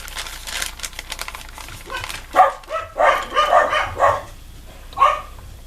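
Several household dogs bark in a run of about six sharp, fairly close barks, coming after a few seconds of quieter indoor rustling and handling noise.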